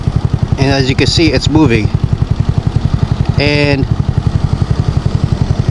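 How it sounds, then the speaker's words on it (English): A motorcycle engine idles with a steady, throbbing pulse as the clutch is slowly let out and the bike begins to creep forward, with someone talking over it in short bursts. "I'm gonna slowly let off the clutch, and the bike will start to move, and you can hear the tone of the bike."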